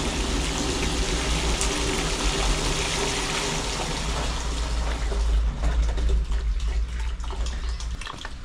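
Water rushes steadily out of a pipe feeding a storage tank on a property, a continuous close, loud broadband pour that runs throughout with no talking over it.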